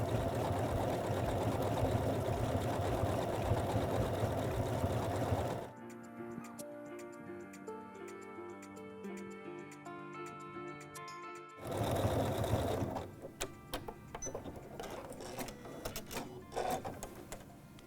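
A sewing machine runs steady decorative top stitching with a bi-level foot, a busy mechanical whir that pauses midway and then starts again at close range.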